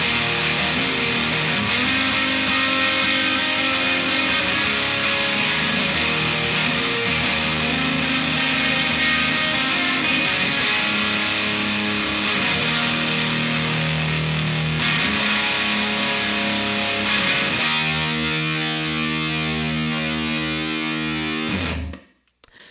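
Electric guitar played through a ProCo Rat distortion pedal with the distortion turned up, a thick, saturated fuzz wall of sustained chords that shifts pitch in sections, then breaks into choppier strummed chords before cutting off abruptly at the end.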